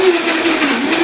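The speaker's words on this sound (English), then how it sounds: "let's put on our Vitamix top here. Make sure it's securely on. Have your Vitamix spindle ready," A Vitamix blender whirs loudly and close by with a steady motor whine, running alone for about a second.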